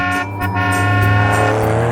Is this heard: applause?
no